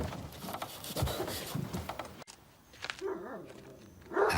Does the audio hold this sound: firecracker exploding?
no